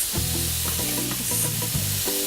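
Tomatoes and chilies for a spicy tomato noodle curry cooking in a pan, with a steady low sizzle and the scrape of stirring throughout a short stretch, close by and without talk.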